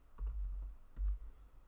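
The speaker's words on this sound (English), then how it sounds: "I'll just type in, it's a /." A few soft keystrokes on a computer keyboard, two brief muffled thumps in a quiet room.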